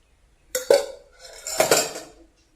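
Melted jaggery being beaten into a rice mixture in a metal vessel, heard as two short bursts of clanking and scraping against the pot, close and otherwise quiet.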